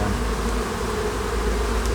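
Honey bees from a weak hive, shaken onto a table, make a dense, loud, continuous buzzing close by with no other sounds.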